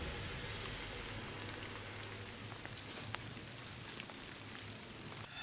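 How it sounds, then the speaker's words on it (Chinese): Steady rain falls across a hillside village, a dense, even hiss of drops on surfaces with no voices. "现在在下雨了，我要回去了"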